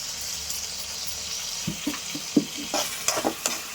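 Chopped tomatoes and salt fry in a pan for chana masala, giving a close, steady sizzle broken by a series of scraping, clinking stirs from a spoon against the pan.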